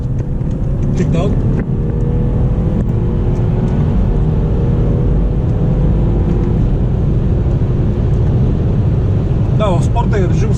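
A BMW 530i G30 with xDrive gives a loud, continuous engine roar from inside the cabin under kickdown acceleration, with a gearbox shift near the start and another near the end.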